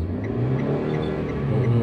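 Car engine held at low revs as a learner driver lightly presses the gas pedal, a steady close hum with a slight rise and fall, no talk.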